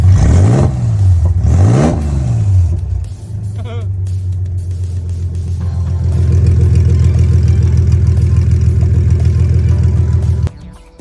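Mercedes C-Class engine running open with long tube headers and no exhaust attached, loud revs rising and falling twice, then a steady raspy idle close by until it cuts off.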